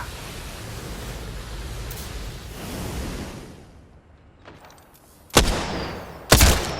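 Gunfire in Apex Legends, two sharp, loud shots near the end following a stretch of dull broadband rumble and softer crackles, with no talk.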